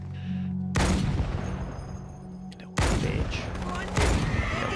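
Heavy bursts of gunfire in the video game Halo 2 Anniversary, played on Heroic, come as two loud sustained volleys with a brief lull between, close and dense, over a low game hum.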